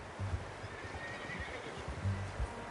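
A horse in Red Dead Redemption 2 gives a faint whinny with snorting and a few soft hoof clops, low in level under a quiet game background.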